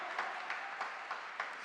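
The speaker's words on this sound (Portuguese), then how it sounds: "Pode aplaudir, aplauda, aplauda," An audience applauds at a Catholic talk, steady clapping with soft periodic swells heard at a moderate distance.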